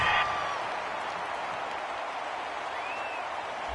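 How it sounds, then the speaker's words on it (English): Home football crowd in a stadium applauding a pass interference penalty call, a steady broad wash of clapping and crowd noise that holds at an even level throughout. "This home crowd, they're happy with that call."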